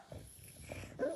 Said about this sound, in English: Pugs are one of the most dramatic dogs.